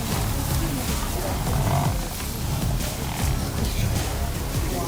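A lion roars during a clash with a whole herd of buffalo, a loud, continuous, rough roar over dense wild rumbling and commotion throughout.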